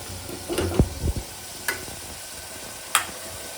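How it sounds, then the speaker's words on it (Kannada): Tomato masala base for tomato bath frying in a pan: a low sizzle under a few spoon scrapes and clicks, close, with no talking. "ಬಿಡೋತನ 1-2 ನಿಮಿಷ ಬೇಸ್ನಾಗಿ ಫ್ರೈ ಮಾಡ್ಕೊರಿ ನೀವು"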